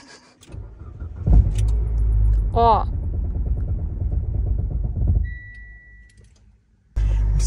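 A rental car's starter cranks for about four seconds without the engine catching, then cuts off into near silence before a brief loud burst of noise at the end.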